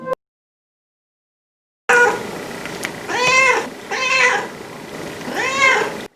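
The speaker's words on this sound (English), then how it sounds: "It appears to be a felinoid of some kind." A cat meows several times in close succession, loud and near, each cry a drawn-out wail separated by short pauses after a moment of silence.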